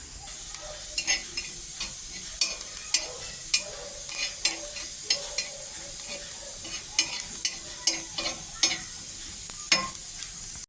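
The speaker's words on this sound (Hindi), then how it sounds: "तवे पर रख दिया है जीरा, और जीरा भून जाएगा" Cumin seeds roasting on a hot griddle (tawa), a continuous close hiss with repeated light ticks and scrapes of stirring spaced through the whole stretch.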